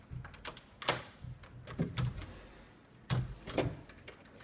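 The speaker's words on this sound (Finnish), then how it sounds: "Sitten mä saan tän oven auki." A door at a rented home in Ubud, Bali is unlatched and opened, making a few close clicks and knocks with a rattle and thump, fairly quiet and with no voices.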